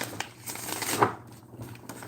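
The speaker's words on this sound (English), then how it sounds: "Shuffle, shuffle, shuffle." Tarot cards being shuffled close by, soft riffling and slapping bursts with a sharper snap near the middle, quiet and alone with no talk.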